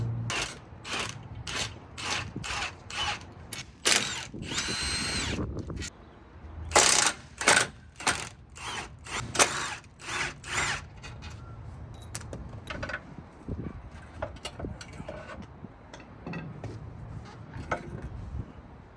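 An impact tool rattles in repeated short bursts while removing 16 mm bolts from the hydraulic power steering unit on a steering rack of a 2.5L five-cylinder MK6 Jetta, followed by quieter metallic clinks and handling.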